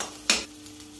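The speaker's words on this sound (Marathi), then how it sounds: "आता हे असं व्यवस्थित भाजून घ्यायचं" Whole spices and red chilli powder roasting in a pan for millet spinach dal khichdi give a single short, loud scrape-and-sizzle burst as they are stirred, then a low steady frying hiss.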